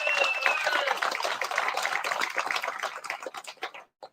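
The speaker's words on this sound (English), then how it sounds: "Please give them a round of applause too" Applause at a state championship awards gathering, a moderate crowd clapping with a whistle early on, thinning into scattered claps and fading out near the end.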